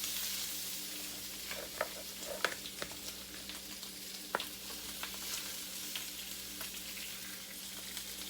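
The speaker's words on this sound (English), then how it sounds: "You're going to slowly start adding your cabbage to the pan." Cabbage is added to a greased skillet and fries with a soft, steady sizzle. Faint clicks and scrapes from stirring break through now and then.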